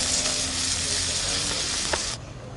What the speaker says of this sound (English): Got the bacon going here, folks. Got a bit black, because frying pan was burnt